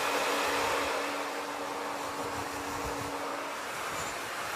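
A handheld hair dryer blows steadily on hair, a constant loud airy whoosh with a faint motor whine running throughout, no voices.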